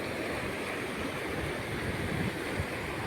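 Water flowing steadily in a full river or stream, a constant broad rushing sound with no breaks and no voices.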